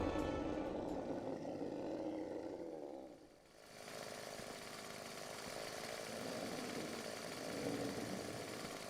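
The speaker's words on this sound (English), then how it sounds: "Does he have a freaking chainsaw?" A chainsaw snarls through a Final Fantasy XIV battle at Doma Castle, a loud continuous roaring buzz that dips briefly mid-way before surging back.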